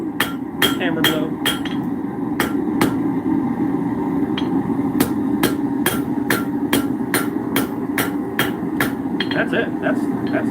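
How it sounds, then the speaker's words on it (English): A blacksmith hammers a mulling iron to a point, with close, ringing metal strikes coming in uneven bursts and short pauses, some quick double taps, all over a steady low workshop drone. "Hammer blow."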